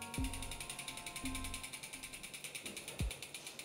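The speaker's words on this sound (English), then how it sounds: "I might even now move the wheel so that you can see the disc brake moving." An e-bike wheel fitted with a Magura disc brake spins in a quiet indoor space, giving a steady, rapid mechanical ticking punctuated by a few soft low thumps.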